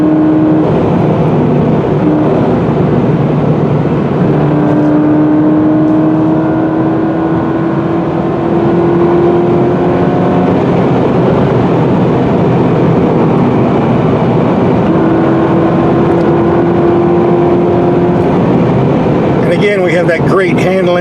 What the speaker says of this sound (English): This engine really sounds sweet when it starts spinning up at high RPM.